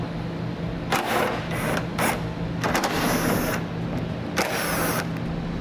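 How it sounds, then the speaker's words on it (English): Several short bursts of ratcheting from a 10mm socket loosening the three bumper-edge fasteners on a 2013 BMW 3 Series, spaced a second or so apart over a steady background hum. "we can start taking out the fasteners right here at the edge of our bumper. And we're going to have 3 in total, and I'm going to be using a 10mm socket."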